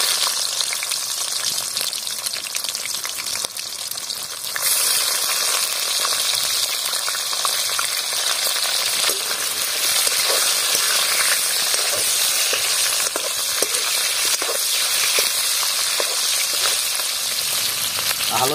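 Pieces of goroi fish fry in hot oil with a loud, continuous crackling sizzle. It swells slightly after a few seconds and stays steady and close throughout, with no talk.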